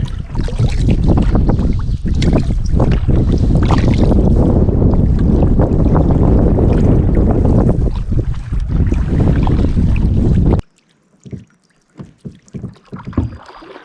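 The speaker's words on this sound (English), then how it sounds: "But now let's just do some paddling and at least get there." A canoe is paddled on wilderness water amid strong wind buffeting the microphone for most of the stretch, then the rush cuts out and a few quieter splashing strokes follow.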